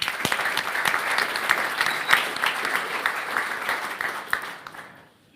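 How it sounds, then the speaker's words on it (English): Applause from a conference audience at an expert panel, steady dense clapping that holds for about five seconds and then fades out quickly. "Warm applause for Christoph Brück."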